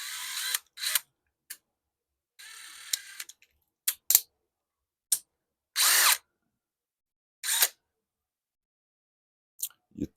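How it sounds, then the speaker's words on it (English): Short bursts of a power drill spinning a screw, several brief whirring runs of varying length separated by silence, fairly close and clear. "and you put it in a drill, test it to turn straight"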